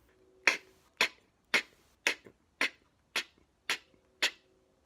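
Eight crisp, breathy clicks made with the mouth in a steady rhythm, an unvoiced K-sound beatboxed snare drum imitation, close and fairly quiet.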